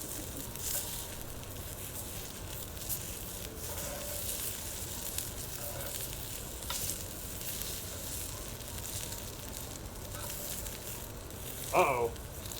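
Hot dogs sizzle in a pan of molten tin and hot oil, a steady dense frying hiss running throughout with faint crackles and a brief louder burst of spatter near the end.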